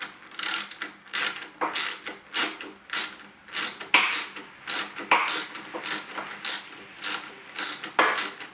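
Ratchet wrench tightening bolts on a RAM dash mount in a Ford Ranger PXII; close, rhythmic clicking strokes repeating about once a second.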